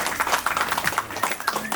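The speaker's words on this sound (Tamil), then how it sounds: "ஒரு பலத்த கைத்தட்டலோட" Audience applause at a school retirement function, a short burst of rapid, steady hand clapping from a crowd, moderately loud throughout.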